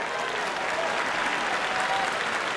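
Tennis crowd applauding after a break point in a Williams match: steady, dense clapping from a large audience, evenly sustained throughout without cheers or voices.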